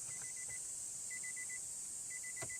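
Warning chime inside a 2014 Nissan Sylphy, a quiet run of rapid electronic beeps repeating in short bursts over a steady cabin hiss.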